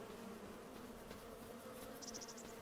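Bees buzzing around hives in the farming game Farming Simulator 25, a steady, faint, close insect drone with no talk over it.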